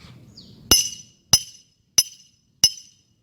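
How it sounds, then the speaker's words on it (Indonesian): A glass tumbler tapped in a classroom sound experiment gives four clear, bright ringing clinks at an even, unhurried pace, each fading quickly, after faint low background noise. "Bunda akan melakukan percobaan menggunakan gelas kaca"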